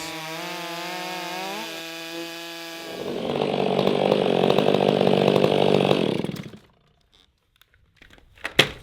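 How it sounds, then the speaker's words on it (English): A chainsaw idles with a steady harmonic drone, then revs up into a loud, rough roar for a few seconds before cutting off, followed by faint clunks. "That's how a saw is supposed to run."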